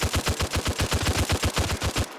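An M14 rifle fires in the military video game Arma 3: roughly seventeen sharp shots in a fast, steady rhythm. The loud, close rapid fire stops abruptly, and nobody speaks.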